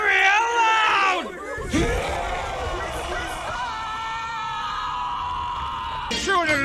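Live-stream audience screaming loudly on cue at a secret word: a brief shout, then a sustained, close, loud chorus of many yelling voices that holds for several seconds.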